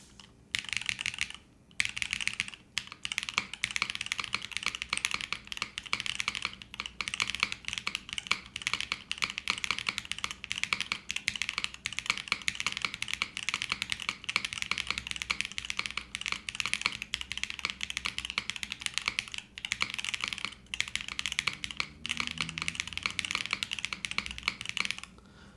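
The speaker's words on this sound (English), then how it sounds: "Sounds like a Razer keyboard." Continuous clicky typing on a Chimera65 R2 mechanical keyboard, fast and steady keystrokes with a few brief pauses, close up and alone.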